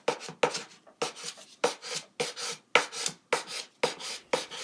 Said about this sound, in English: You want to sand all the edges of your board to make sure they're nice and smooth